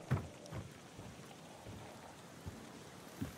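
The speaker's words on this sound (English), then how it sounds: "I thought I heard footsteps, but this is just the burning wood." Wood burning in Hunt: Showdown gives off faint, scattered crackles and soft pops over a quiet hiss, heard close and low in level.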